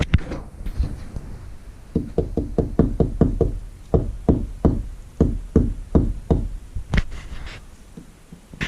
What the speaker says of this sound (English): knock on the wall,